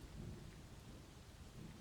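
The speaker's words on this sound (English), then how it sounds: "It's pouring down rain." Heavy rain pours steadily outdoors with low rolling thunder rumbling beneath it, a dense continuous wash of sound at moderate level with no voices.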